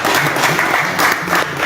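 An audience at a birthday commemoration gathering in Kediri breaks into loud, dense applause, a steady wash of many hands clapping close by, swelling slightly in waves.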